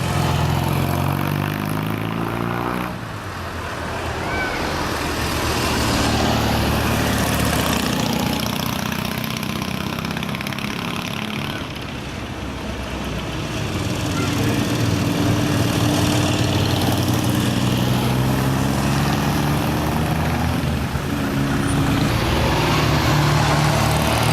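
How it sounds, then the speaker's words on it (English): A vintage Ariel sidecar trials outfit's engine drones steadily at a roadside corner in Portisham, a loud continuous rumble that dips briefly and swells again as the machine passes close by. "Here comes that Arial sidecar again."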